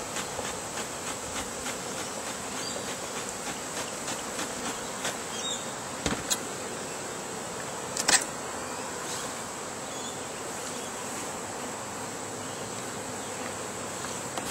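Honey bees hum around an open beehive during a queen-cell inspection, a steady, faint swarm drone that runs unbroken the whole time, with a couple of soft knocks and no talking.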